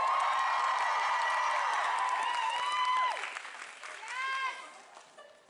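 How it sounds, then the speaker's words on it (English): Convention awards crowd claps and cheers, with whoops and shouts over the applause, which fades partway through before a brief final swell. "a huge cheer."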